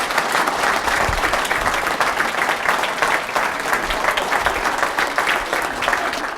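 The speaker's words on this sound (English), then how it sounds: "let's just give them a nice big round of applause." Steady, dense applause from an audience at a World Dairy Expo gathering for a family dairy farm, continuous and fairly loud for several seconds with no break.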